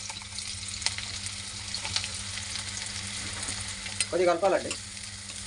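Chopped onions with a green chilli fry in about half a spoon of oil in a pan for chicken curry, giving a steady close sizzle with stirring scrapes; a voice speaks briefly near the end.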